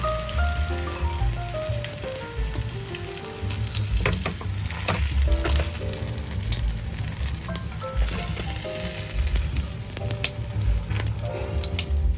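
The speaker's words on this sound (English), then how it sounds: "Fry for 5 minutes on one side, then turn and fry for 3 minutes on the other side." Fish fries in plenty of olive oil with a steady, dense crackling sizzle, loud and continuous throughout, under a low hum and a few faint clicks.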